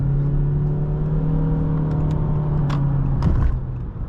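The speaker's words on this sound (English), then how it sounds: "It definitely has like that droney CVT noise, but that's what you expect, right?" A 2023 Honda Accord EX with a 192-horsepower CVT accelerates from inside the cabin, giving a steady, even engine drone that holds one pitch throughout and swells slightly near the end.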